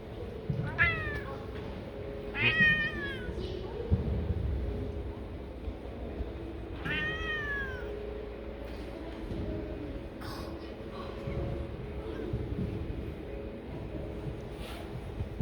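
A cat meows inside the Mosque of Bayezid II in Istanbul, a few distinct drawn-out meows spaced apart over a quiet, low rumbling interior hum, with faint background murmur.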